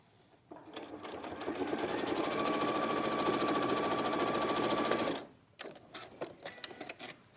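A sewing machine stitching bias binding over fabric edges runs in one steady, close, buzzing burst of about five seconds, then stops, followed by faint handling clicks.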